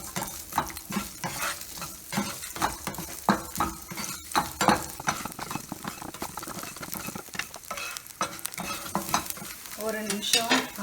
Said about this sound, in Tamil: பூண்டு, பச்சை மிளகா போட்டு ஒரு சின்னதாக ஒரு வறுத்துக்குங்க.